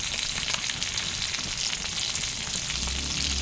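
Chicken adobo sizzles in a small amount of hot oil, a steady close crackle and spatter throughout with no talking.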